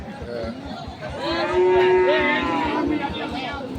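Cattle at a rural livestock market where bulls are sold let out a long, drawn-out moo near at hand, with low chatter and voices around.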